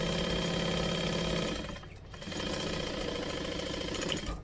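A sewing machine runs a basting stitch along a fold-over clutch seam, a loud steady mechanical whir with a brief dip in speed partway through before it picks back up.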